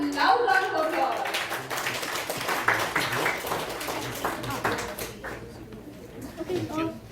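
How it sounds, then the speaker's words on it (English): An audience at a youth leadership program event applauds as a pair of youth leaders is called onto the stage, a dense patter of clapping running beneath and after a voice speaking nearby. "And a loud round of applause."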